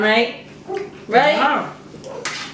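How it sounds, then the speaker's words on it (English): Dogs bark in a backyard next door, a few sharp, fairly close barks and yips mixed with a person talking nearby. "My next door neighbor's dogs are in the backyard,"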